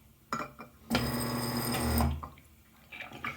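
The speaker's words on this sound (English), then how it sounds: "And pour this shot in." Espresso shot from a Londinium LR24 lever machine poured into milk, a short liquid splash and trickle lasting about a second amid faint kitchen clatter, quiet and close.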